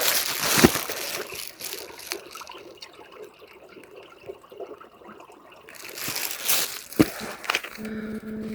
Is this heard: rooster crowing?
no